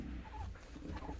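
Dogs whimper and whine faintly in a short burst, close but quiet, amid low background rumble.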